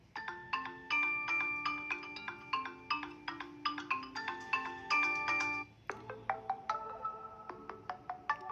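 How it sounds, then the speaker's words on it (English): A Google Pixel 6a phone rings with a bright, clear melodic tone sequence. Quick repeating plucked notes play in phrases, then shift to a new pattern after a brief dip, loud and close with no talking. "We will first check the ringtone sound."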